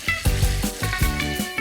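Paneer chilli simmering in sauce in a pan, a loud close bubbling sizzle with rhythmic thick pops and stirring bursts repeating about every fraction of a second; no talking.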